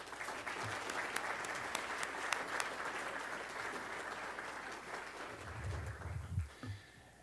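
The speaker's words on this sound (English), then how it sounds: "let's give her a round of applause" Sustained applause from the audience at a school district board of trustees meeting, fairly distant and soft, steady for about six seconds before tapering off with a few low thumps.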